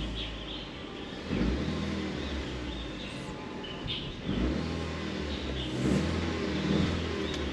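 A damaged car that has sat unused for nine months is revved in place. Three swells of engine roar rise and fall against a steady idle, while birds chirp faintly in the background.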